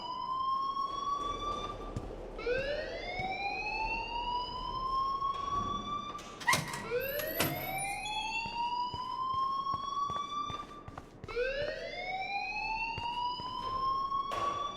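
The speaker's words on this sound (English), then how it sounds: "please turn off that alarm since that's your job" Rising and falling electronic alarm wail in the video game Life is Strange, sweeping upward in repeated cycles with a sharp click in the middle, loud and steady without talk.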